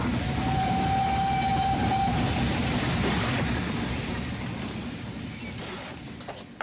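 A train sound effect in a full-cast radio drama set in Victorian England gives a steady rolling rumble with a faint whistle-like tone early on, then gradually fades.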